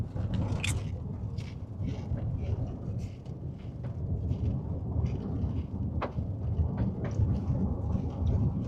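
Rumbling thunder from a severe Oklahoma thunderstorm with tornado and hail risk rolls on steadily throughout, loud and low, with brief sharper cracks standing out against the continuous storm noise.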